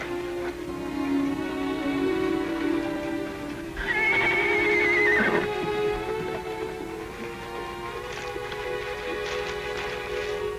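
A horse gives one loud, wavering whinny midway through, rising then falling, set against a sustained musical drone and other background sound, with no talk.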